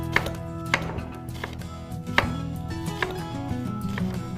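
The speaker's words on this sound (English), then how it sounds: "then go ahead and cut this into strips" Knife cutting jicama into strips on a board, several crisp chopping taps at an uneven pace over a steady background hum.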